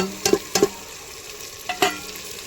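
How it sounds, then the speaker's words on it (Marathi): A spoon stirs red chili powder, turmeric and biryani masala as they fry in a pan for chicken biryani. Several short scraping strokes come in uneven bursts over a low sizzle, with no talking. "मस्त मिक्स करून घेतले."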